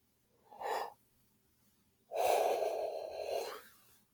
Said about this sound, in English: I don't know why I'm yawning so much